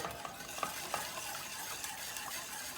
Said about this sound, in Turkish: Çırpacakla şöyle bir çırpacağız.